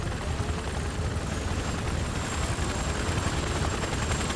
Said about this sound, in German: Warten auf den Heli, Sir.